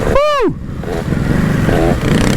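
A 125 motorcycle engine revs sharply with a rising and falling whine at the start, then keeps droning under loud road and wind noise.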